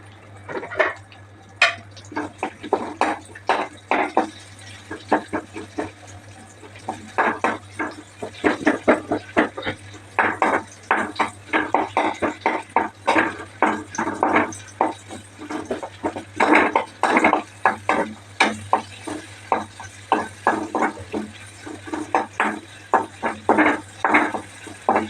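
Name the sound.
chopped onions added to pan and stirred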